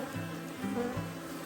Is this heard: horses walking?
no